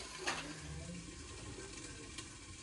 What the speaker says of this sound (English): So we also have to wash the rice.